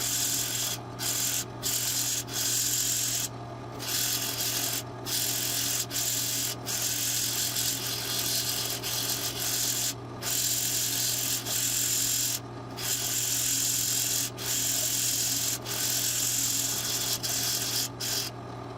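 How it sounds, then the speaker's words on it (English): A 120-grit flap disc on a drill press sands a wooden knife handle with a steady, close abrasive rubbing hum that runs continuously and breaks off briefly at irregular moments. "I'm going to switch over to a flap disc, and the flap disc on my drill press is 120 grit"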